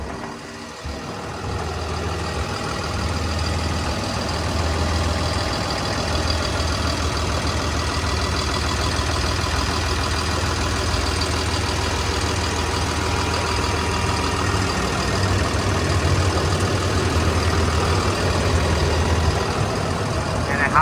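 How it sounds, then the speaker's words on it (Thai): A Cummins B67 diesel engine runs steadily on a Hitachi ZW220-5B wheel loader, a continuous close, loud idle with a low engine drone throughout and faint voice-like sounds mixed in. "เขาจะใช้งานเป็นเครื่องยนต์คัมมิน B67"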